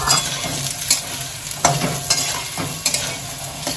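Potatoes drop into hot tempering oil for chirer pulao and fry with a loud, close sizzle, while a spoon stirs and clanks against the pan in uneven knocks.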